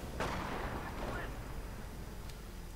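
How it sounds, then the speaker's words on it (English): Mortar shells bursting in a World War II strategy game, a couple of muffled booms early on that fade under a continuous battle din. "Germans advancing now through a storm of mortar shells"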